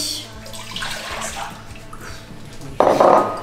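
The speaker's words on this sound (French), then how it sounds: "Je vais mettre dedans mon lait" Quiet kitchen clatter, then milk is poured into a saucepan with a sudden, loud, splashing stream near the end.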